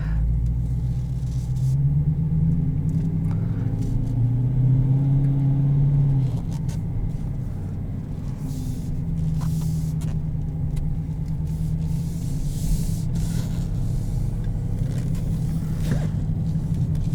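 A 2020 Dodge Challenger R/T Shaker 50th Anniversary with the 5.7 V8 rumbles at low, steady revs while driving in normal mode, the deep engine tone swelling briefly before settling into an even cruise under road noise.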